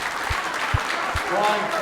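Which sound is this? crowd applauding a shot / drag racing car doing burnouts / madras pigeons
crowd applauding a shot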